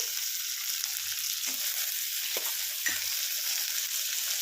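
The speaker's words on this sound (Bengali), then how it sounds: "আমি ভাজতে ভাজতে এরকম একটু করে খুন্তি দিয়ে কেটে কেটে দিচ্ছি" Onions fry while being chopped with a spatula in the pan, a steady bright sizzle broken by three sharp scraping taps. The sound is close, with no talking.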